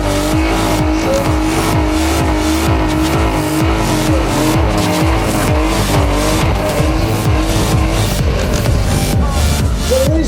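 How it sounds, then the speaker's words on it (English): During a burnout competition at Santa Pod Raceway, a car revs hard with tyres spinning and squealing, a loud, sustained roar of engine and rubber lasting throughout with rhythmic rev surges. "it's the burnout competition. No explanations really needed. Just make as much smoke as you can and fry those tyres"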